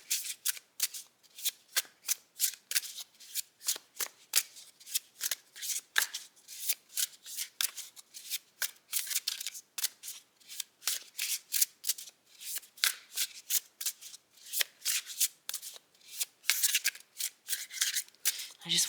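Tarot cards are shuffled repeatedly in quick, crisp riffling bursts, close up, with a steady rhythm throughout.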